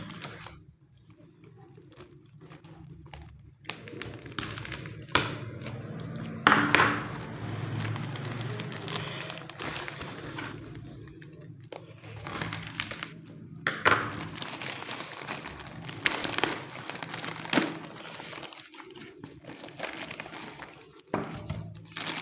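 A 20,000 mAh power bank is unboxed, with scattered taps, thumps and crinkly rustling of its packaging, close and moderately quiet, plus occasional bumps and handling noise throughout.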